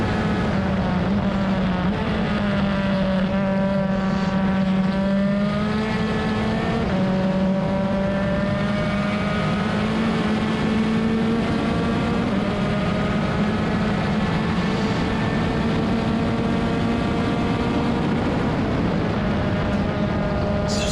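An INDYCAR-series race car engine screams at high revs on track while following closely behind another car, a loud continuous whine whose pitch slides and shifts as the driver works the throttle, with no talk over it.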